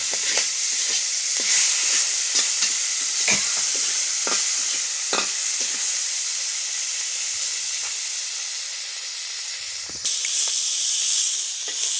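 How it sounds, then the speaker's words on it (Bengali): Dried salted fish with dry chillies fries in a pan, a steady loud sizzle running throughout with intermittent clicks and stirring scrapes, no voices. "ডেমাইকে ভাজা করবো"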